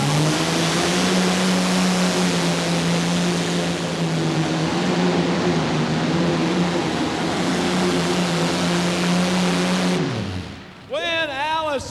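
A pulling tractor roars at a 1989 indoor truck and tractor pull, a loud, sustained engine drone that holds for ten seconds and then cuts off abruptly, followed by a brief arena announcer's voice.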